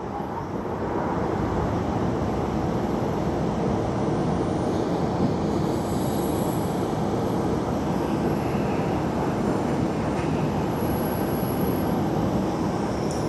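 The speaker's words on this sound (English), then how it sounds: "we see ANA 787 getting ready for departure" An ANA Boeing 787 sits at the gate at Tokyo Haneda Airport being readied for departure, a steady broad engine and ground-equipment roar holding constant throughout with no break.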